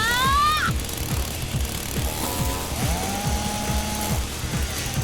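A chainsaw rattles in a rapid, regular pulsing chug close up, with high sweeping tones sliding over it, the motor's choppy idle continuing loud throughout.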